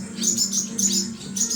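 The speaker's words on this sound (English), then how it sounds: "It's a barn sparrow." A baby barn sparrow chirps in quick repeated high bursts, close and clear, with a low steady hum underneath and no talking.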